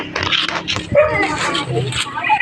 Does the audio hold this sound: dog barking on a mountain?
yes